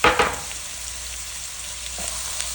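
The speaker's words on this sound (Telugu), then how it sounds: "ఆనియన్స్ కొంచెం బ్రౌన్గా వేయించుకోవాలి" Onions fry toward brown in a pan with cinnamon, cardamom, cloves, bay leaf and green chillies for a chicken curry, giving a steady close sizzle after a couple of clattering stirs at the start.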